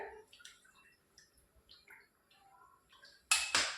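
A spoon clinks against a cooking pot as oil is added for sambar, with light metallic taps and faint drips, followed by a louder sizzling scrape near the end.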